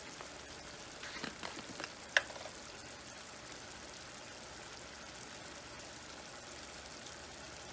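Spiced ground meat browns in a pan with a soft, steady sizzle, a few scraping stir sounds and one sharp clink early on, then a faint continuous fry.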